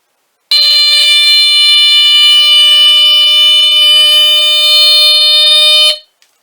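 A Statitrol SmokeGard 800A smoke detector sounds one loud, continuous piercing electronic tone for about five seconds alone, then cuts off abruptly, followed by a tiny click.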